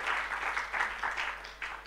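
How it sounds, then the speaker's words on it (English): Audience applause at a urology guest lecture on minimally invasive surgery, a short steady burst of many hands clapping together, moderately loud and continuous with no talk over it. "Let's give a round of applause to Dr. Halim for being the moderator for today."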